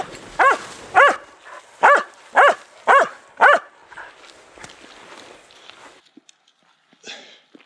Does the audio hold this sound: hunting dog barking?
yes